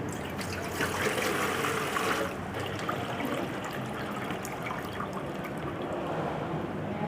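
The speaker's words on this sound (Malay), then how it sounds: "kita akan sukat 5 liter air tasik dan kita akan masukkan ke dalam bekas A dan bekas B" Measured lake water trickles and splashes into containers in a continuous pour, close and moderately loud, softening slightly partway through.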